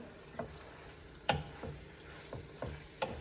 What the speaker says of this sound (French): Donc, je les mélange pour qu'ils se réchauffent un petit peu.